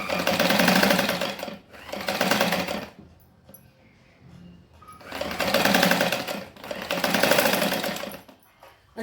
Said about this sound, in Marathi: आपण आता इथे शिलाई घेऊन घेऊ.